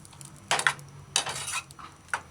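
Spoon stirring coconut cream into a saucepan of chicken and mushroom stew, a few scraping, clinking strokes against the pan in short bursts.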